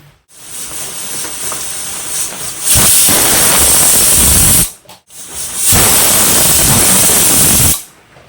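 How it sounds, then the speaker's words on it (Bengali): A pressure cooker with mutton curry and potatoes lets off steam in two long, loud, rushing hisses, each lasting a couple of seconds and separated by a short pause. "প্রেসার কুকারে দিয়ে দিয়েছি, এবার আমি মোটামুটি 8টা মতন সিটি দিয়ে দেবো"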